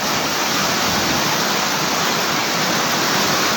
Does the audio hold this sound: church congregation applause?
no